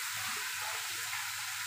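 Shrimp frying in butter with sliced garlic in a pan, a steady loud sizzle with faint scraping from stirring underneath.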